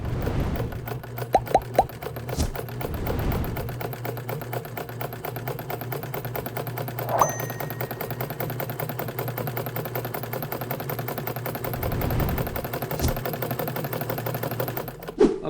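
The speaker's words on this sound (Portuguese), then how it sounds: "A máquina de costura Vigorelli, ponto costura reta, é uma excelente opção para pessoas que precisam costurar esses tipos de tecidos mais grossos" A Vigorelli straight-stitch sewing machine, an older green model, runs at reduced speed stitching thick synthetic leather, giving a steady rapid mechanical clatter with a few sharp clicks and thumps, close and continuous throughout.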